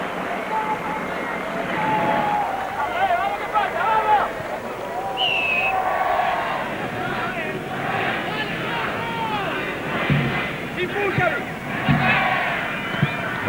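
Capacity crowd at a Copa América football match between Argentina and Mexico chants and roars in a large stadium, a sustained distant rumble of voices under continuous commentary.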